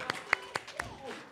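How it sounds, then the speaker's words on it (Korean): Clapping in a church during a Christmas Sunday service: four sharp, evenly spaced claps ring out clearly over a quiet room. "아이들에게 수고했다고 박수."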